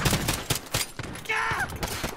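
Quick bursts of gunfire in a Call of Duty: Modern Warfare free-for-all match, several sharp close shots in fast succession, with other game sounds in between.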